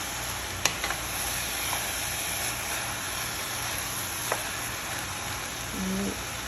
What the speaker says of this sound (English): Allow the rice steam.